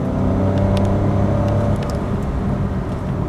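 A 2022 Opel Corsa's 1.2-liter turbocharged three-cylinder engine hums and revs steadily under acceleration, loud and close from inside the cabin.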